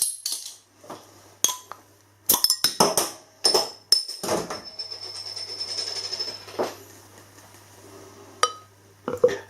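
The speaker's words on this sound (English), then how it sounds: "Let's get this beer out into a glass and see what we get." Dewhopper Norfolk Lager, a 3.8% ABV beer from a black-capped bottle, handled and poured into a glass, with close clinks of glass, taps and a foamy fizzing stretch between sharper knocks, no talk.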